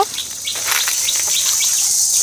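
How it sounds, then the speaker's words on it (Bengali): Crickets chirp steadily in a shrill, continuous chorus, with a few faint bird calls mixed in and no talking. "কি সুন্দর ঝিঝিক পোকা ডাকছে"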